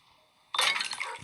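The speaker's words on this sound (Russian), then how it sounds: "Сейчас разбиваем вазу." A vase shattering in a video game, a single sharp crash of breaking glass or ceramic followed by a brief tinkling scatter of fragments, loud and close.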